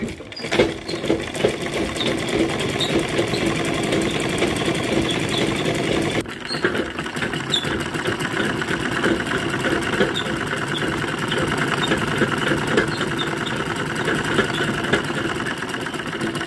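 A sewing machine runs steadily while stitching a salwar, its rapid needle chatter loud and continuous, with a brief pause and restart about a third of the way through.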